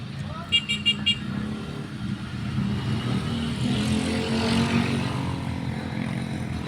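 Road traffic rolls past on a street with tires and engines in a steady, fairly loud wash, after a few short horn-like beeps at the start and a vehicle pass swelling toward the middle.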